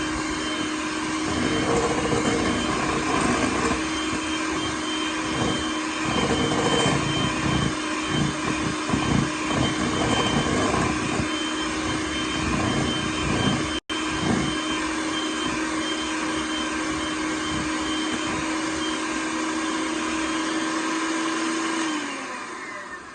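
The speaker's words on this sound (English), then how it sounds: "we're gonna whisk again for about 30 seconds" Electric mixer whisking a cream cheese dessert mixture, a loud, steady motor whine with a constant pitch that runs for over twenty seconds before winding down, with no talk.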